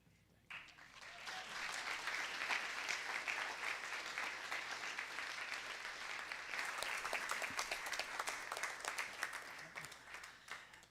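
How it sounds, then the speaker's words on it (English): Audience applause for honorees at a school board of education meeting, a sustained patter of many hands clapping in a room, fairly soft and distant, rising quickly and holding steady with brief faint voices underneath. "So can we give our 24, 25 honorees another round of applause, please?"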